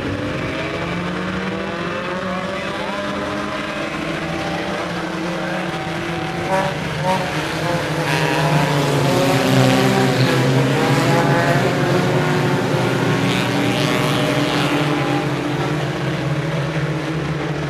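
Race cars lapping an oval speedway at a Fourth of July event, a sustained loud engine roar that swells as the pack comes off the turn and passes close by.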